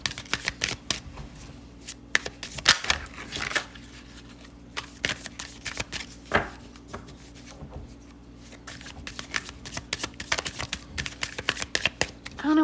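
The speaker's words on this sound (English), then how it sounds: "I don't know why I'm shuffling like way over here." Tarot cards are shuffled close by in quick, irregular crisp riffles and taps, fairly quiet, with little talk.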